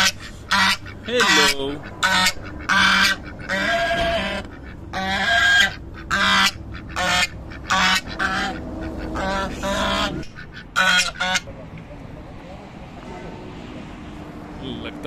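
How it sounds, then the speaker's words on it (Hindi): Ducks in a village quacking and honking repeatedly in short, loud bursts close by, several calls overlapping, while a person speaks briefly; the calls fade into a quieter background near the end. "मेरे छोटे दोस्तों को ना डक्स दिखाते हैं, चलो एक ये देखिए।"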